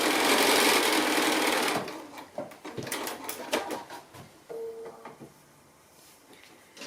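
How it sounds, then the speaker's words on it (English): A domestic sewing machine stitches a second seam line across quilt strips cut from 2 1/2 inch strips, a loud steady whir for about two seconds, then fabric handling and light clicks. "I'm going to do that second line of sewing so I can save my triangle"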